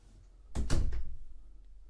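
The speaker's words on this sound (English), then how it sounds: "door will take us through to the bathroom" The bathroom door inside a luxury motorhome opens with a short, close thunk and a couple of quick knocking clacks, then settles into quiet.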